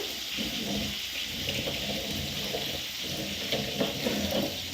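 Two freshly cut fish are washed in water, giving a steady, close, splashing wash of sloshing and trickling for the whole stretch, with slightly louder swishes near the end and no talking.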